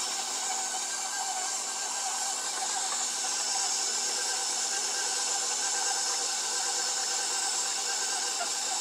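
Stand mixer creaming butter and sugar with orange zest, sugar added in increments, a steady continuous whirring hum with no pauses throughout.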